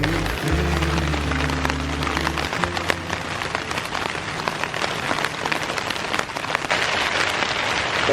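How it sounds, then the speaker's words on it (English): Steady rain patters on a tent close by, a dense continuous hiss of drops, with a low rumble in the first seconds and no voices. "It's raining all night. Sounds like it's coming down a little bit harder right now."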